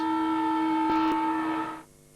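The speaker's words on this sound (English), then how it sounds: "As the siren sounds." A loud, steady electronic siren blares at an Australian football match in the 2001 Ansett Cup, St Kilda versus West Coast, holding one tone for nearly two seconds before cutting off abruptly.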